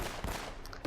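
Brief bursts of blind-fired gunfire in Uncharted: Drake's Fortune, a few sharp loud shots in under a second, close and unaccompanied by speech.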